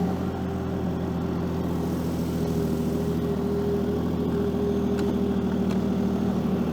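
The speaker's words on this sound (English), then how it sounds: "And we'll fire the machine up." A Ski-Doo snowmobile engine runs at a steady, fairly quiet idle, a continuous droning hum with a few faint clicks and no speech.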